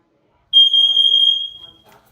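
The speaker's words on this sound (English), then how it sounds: "there they go off, the other fire alarms." Nest smoke alarms going off during a test, a loud, piercing steady tone sounding for about a second before fading out, with faint chatter behind.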